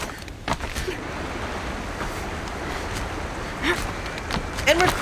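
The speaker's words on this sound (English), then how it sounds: "We're in a waterfall." A waterfall in the video game Horizon Zero Dawn rushes in a continuous loud roar of falling water, with a few brief clicks and game sounds scattered over it.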